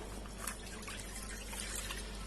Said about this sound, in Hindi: कढ़ाई के अंदर हम अपना दूध डालेंगे।